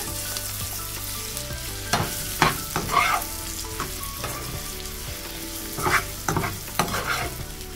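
Finely chopped medium onion frying in a pan with shrimp and masala, a close, crackling sizzle under repeated scraping stirs of a spatula, with several louder bursts.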